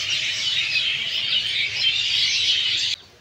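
Flock of mynas chattering and squawking in roosting trees beside Malatipur railway station at dusk, a dense continuous racket of overlapping bird calls, close and loud, cutting off abruptly near the end.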